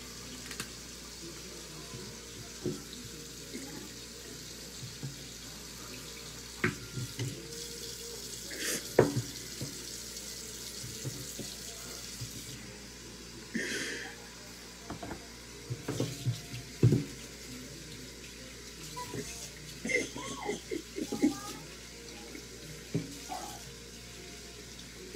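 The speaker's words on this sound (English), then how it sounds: "but right now I'm finna wash the meat." Tap water runs steadily at a kitchen sink while raw meat is washed for frying chicken, a continuous faint splashing wash with scattered small clatters and knocks throughout.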